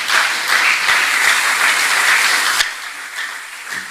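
A French-speaking church congregation claps in acclamation during a sermon, a strong burst of applause that drops off sharply after a few seconds, leaving softer scattered claps.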